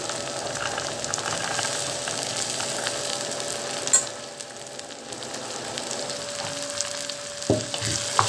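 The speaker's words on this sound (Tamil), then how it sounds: "சேர்த்துட்டு இது நல்லா கொஞ்சம் எண்ணெயில் ஆயிலில் அது வரைக்கும் நம்ம கிளறி கொடுக்கலாம்" Tomato, fresh peas and potato fry in oil with a steady, even sizzle, broken by a couple of sharp clinks and scrapes from stirring.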